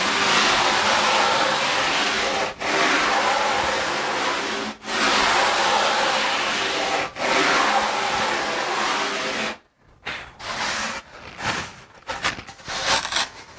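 Several steady passes of a power planer shaping the corner cut along a surfboard rail, a loud continuous whir broken by brief pauses, then stopping and leaving short scraping handling noises.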